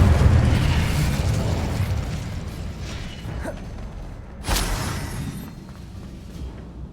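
Incendio fire spell in the Hogwarts Legacy video game: a dull, rumbling blast that fades out, followed by a sharp burst of flame partway through, with no voices.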